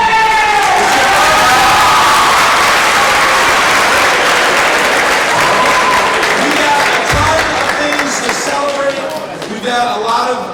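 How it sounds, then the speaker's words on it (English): A school audience at a high school October celebration claps loudly and steadily, a dense sustained wash of applause with some cheering, fading slightly toward the end. "today, you're going to get in trouble if you don't clap"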